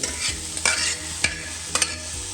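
Cooked beetroot stirred and fried in a pan for a dry palya: steady close sizzle with several sharp scraping strokes of the spoon against the pan, no voices.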